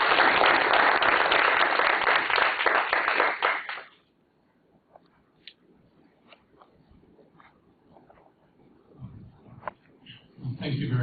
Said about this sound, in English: let's welcome Professor Robinson with a big round of applause.